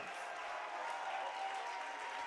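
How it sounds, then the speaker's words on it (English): Applause from the crowd at a South Dakota girls basketball SoDak 16 game honoring three seniors, a steady even wash of clapping that holds at moderate level throughout with no voices on top. "Big round of applause for the 3 seniors, Deckert, Babb, Brookings and Hoff."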